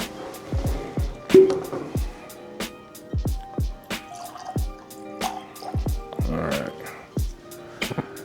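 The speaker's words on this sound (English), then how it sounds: "Let's pour this up and see what we find." Stagg bourbon whiskey is poured into a glass, a run of close, sharp liquid drips and splashes landing in a steady irregular rhythm, with faint background sounds.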